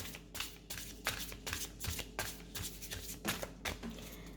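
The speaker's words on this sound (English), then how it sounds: "So let's clear the cards" Tarot cards are shuffled by hand in a quick, even rhythm of soft riffling slaps, close and fairly quiet, with no talking.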